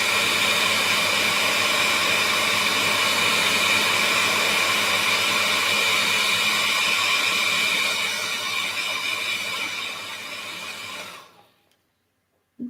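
A hair dryer blows steadily and loudly on freshly painted cactus craftwork, a broad continuous rush that fades and cuts off near the end, followed by silence.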